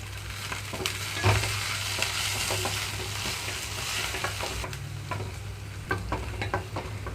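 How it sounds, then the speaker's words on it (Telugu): Green chillies and coriander with stems frying in a pan, a steady crackling sizzle over a low hum, with periodic stirring clinks and scrapes up close. "ఇక్కడ పచ్చిమిరపకాయలు అన్నీ వేగినాక ఇందులోనే కొంచెం కొత్తిమీర కూడా వేసేసుకుంటున్నాను"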